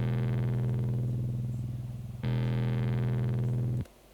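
A drum and bass synth patch called Brawny Combo Crunch, with reverb, boosted bass, mids raised slightly and a touch more treble, plays two long, gritty, distorted bass notes. The second starts after a brief dip and cuts off abruptly.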